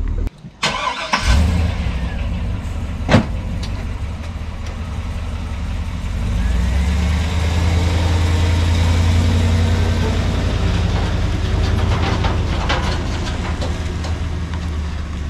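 A VW Golf I diesel engine idles steadily after being started, a low continuous rumble close by that swells a little in the middle, with a sharp knock early on.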